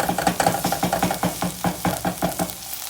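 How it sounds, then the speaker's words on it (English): Vegan kimchi stew being stirred after gochujang is added, a spoon scraping and swishing through the thick liquid in a steady rhythm of repeated strokes, close and fairly loud, with a faint simmer underneath. "you want to incorporate it, you want to keep stirring"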